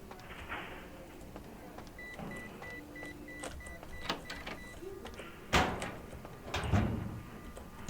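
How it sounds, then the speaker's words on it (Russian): Doors opening in the video game Vampire: The Masquerade - Bloodlines, a few short mechanical clicks and a brief whooshing slide over a quiet ambient hum, with no talking. "Двери открыты."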